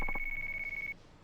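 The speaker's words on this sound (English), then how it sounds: "Oh, sorry, it's my phone." A mobile phone rings in the video game Yakuza 5: a short electronic ringtone with a steady high tone and a few quick chirps at the start, lasting about a second.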